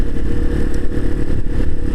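A motorcycle engine runs hard at high revs, a loud continuous droning roar with slight fluctuations, heard close and alone.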